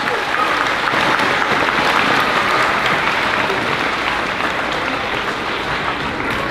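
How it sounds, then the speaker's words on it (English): An audience applauds steadily at a 5th grade moving-up ceremony, dense, loud clapping filling the whole stretch without letting up. "Let's give them a round of applause."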